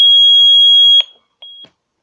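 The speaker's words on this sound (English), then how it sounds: "You have your panic alarm." A Lynx Plus security panel sounds its panic alarm, a loud piercing steady tone lasting about a second, then cut off and followed by a shorter second burst.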